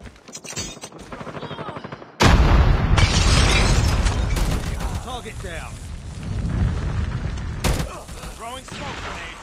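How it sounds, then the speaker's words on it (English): A grenade explodes in a Call of Duty Mobile match with a sudden loud blast, amid surrounding gunfire and game effects. Voices speak before and around it. "Grenade out."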